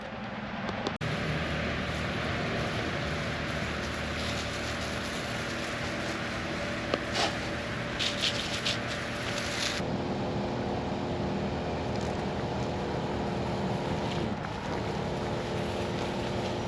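A parked tractor runs a Fimco 40-gallon three-point-hitch sprayer pump, giving a steady mechanical drone close by; a brighter hiss of spray cuts in near the start and stops around ten seconds, leaving the engine hum.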